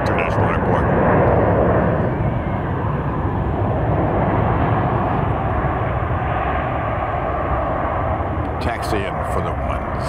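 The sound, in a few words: airliner at SFO airport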